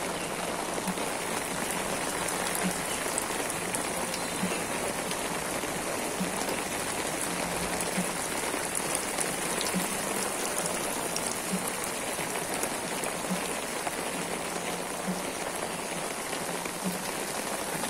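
Heavy, continuous rain pours steadily during flooding in Feni, a dense, even hiss of drops on surfaces that holds at a constant level throughout, with no voices.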